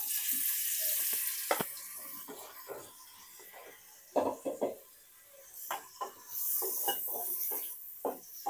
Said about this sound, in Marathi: आता अगोदर आई आपली पनीर फ्राय करून घेतो तुपात